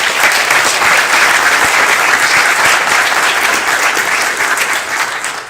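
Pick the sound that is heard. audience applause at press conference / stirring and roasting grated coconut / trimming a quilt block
audience applause at press conference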